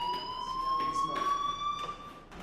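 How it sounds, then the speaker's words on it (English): School fire alarm in the video game Life Is Strange rings as a steady, loud electronic tone with repeated pulsing bursts, continuous over a couple of seconds with a voice speaking faintly underneath. "do you hear that fire alarm?"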